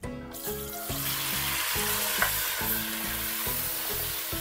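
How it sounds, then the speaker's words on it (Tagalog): Cubed potatoes and carrots frying in hot oil in a pan for a Filipino menudo, a loud, continuous close sizzle with a steady hiss under a faint background hum. "Next naman natin i-fry itong patatas at carrots natin."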